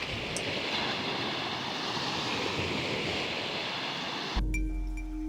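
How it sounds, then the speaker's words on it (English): Steady broadband surf wash fills the scene, a continuous hiss of waves breaking, before cutting to a different, quieter background at the end. "listen to the sound of the waves"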